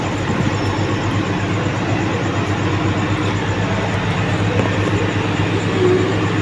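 KAI Kertajaya passenger train pulling into Babat station, a loud steady rumble of wheels and engine drone that carries on unbroken throughout.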